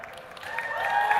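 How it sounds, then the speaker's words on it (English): Crowd applause and cheering from a gaming convention audience at QuakeCon 2023 during a contest on stage, a steady sustained clatter of clapping that swells slightly toward the end. "the two with the largest applause, it was Dan and Patrick, right"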